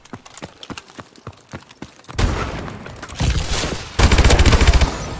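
KF5 gunfire in Call of Duty Advanced Warfare: light rapid taps at first, then loud sustained automatic bursts in two close, dense stretches.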